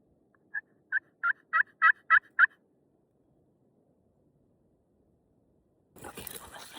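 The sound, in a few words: wild turkeys gobbling, hens and toms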